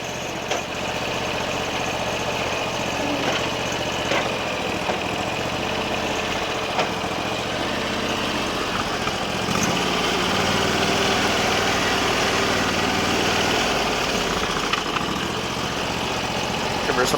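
A Briggs and Stratton 20 hp V-twin engine on a Sears loader idles on choke with a loud, steady, close-up rumble that holds for the whole stretch, with a voice talking faintly over it.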